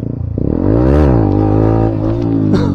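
A motorcycle engine idles, then revs up in a rising, sustained roar and settles back to a steady throbbing idle, close and loud, with no voices over it.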